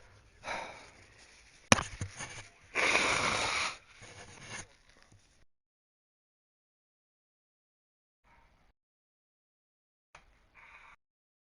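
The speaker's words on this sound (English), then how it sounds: "Oh, I gotta blow my nose." A person blowing their nose near the microphone: several loud, breathy bursts of sniffing and blowing over a few seconds, then near silence with a couple of faint rustles.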